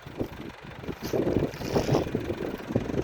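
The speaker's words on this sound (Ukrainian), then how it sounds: "В принципі, тракторець подобається." A tractor engine idles steadily at close range, a low rumbling drone that holds throughout with slight swells in level.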